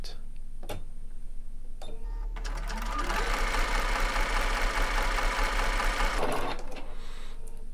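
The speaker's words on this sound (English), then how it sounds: "Then I need you to sew towards the left." Bernina 770 Plus or 790 Plus computerized sewing machine stitching sideways to the left, a quiet pause and clicks, then about four seconds of steady, buzzing needle whir that stops abruptly, with someone talking.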